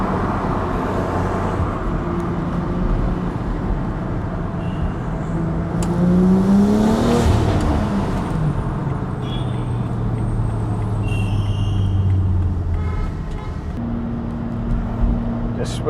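A BMW X3M fitted with an Active Autowerke exhaust moves through traffic among trucks, a steady engine drone rising and falling as a passing vehicle's tone sweeps by, with road rumble and a voice talking over it.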